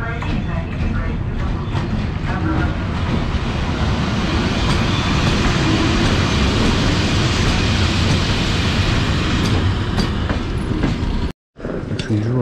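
A train rumbles steadily along the rails in Kazan, Tatarstan, Russia, loud and close, with faint clicking over the tracks before a brief cutout near the end.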